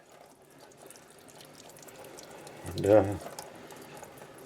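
Cold tap water runs over roasted poblano peppers in a kitchen, a soft splashing trickle that swells into a brief burst near the three-second mark; a voice speaks quietly around it.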